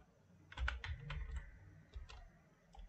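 Keys on a computer keyboard are typed in a short burst of clicks while a command is entered in an Ubuntu terminal, with a few more taps following after a pause, close and clear with no talking.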